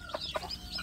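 Village chicks give a few short, high cheeps in quick succession, faint and close, with soft background noise between the calls.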